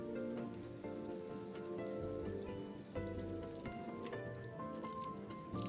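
Salted bitter gourd slices are rinsed a second time in clean water, a faint, continuous slosh and trickle of liquid heard close by at low volume.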